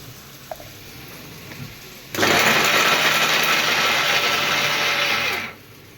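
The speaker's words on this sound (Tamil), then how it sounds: "நம்ம இப்போ தேங்காய் முந்திரி பருப்பு சோம்பு மூணு அரைச்சிக்கலாம்" A kitchen mixer grinds coconut, cashews and fennel seeds. After a quiet start, the motor roars on abruptly, whirs loudly and steadily for about three seconds, then winds down, with no talking.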